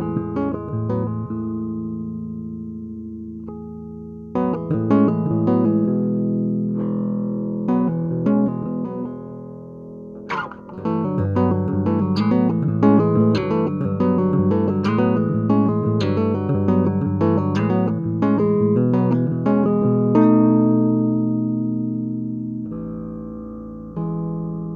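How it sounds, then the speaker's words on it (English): Benavente DCD 4-string bass with bass and treble rolled off and mids boosted, playing a busy line of plucked notes and slides for about twenty-five seconds, heard alone without talking. "let's listen to an example with the bass and the treble rolled off and the mids accentuated."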